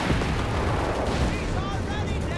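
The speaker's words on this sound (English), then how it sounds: "We got 2 6-pounder guns, so ambushing it, causing immense damage to the Panther III there." Two British 6-pounder anti-tank guns fire on a German Panther III tank in Company of Heroes 3, heavy booming blasts layered in dense, loud, continuous battle noise with no clear pauses.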